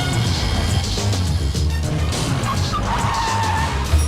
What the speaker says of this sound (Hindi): ये क्या बहुत सारी गाड़ियों के आने की आवाज आ रही है?